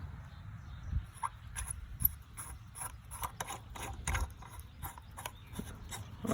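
Friction drive clutch on a bike powered by a weed eater engine, with a steel turnbuckle pressing it onto the tire, giving steady close mechanical ratcheting and clicking with scattered sharper knocks.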